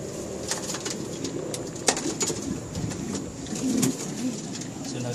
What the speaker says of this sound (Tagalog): Sunod itong ibon ni Sir Eric Nestor, Destiny.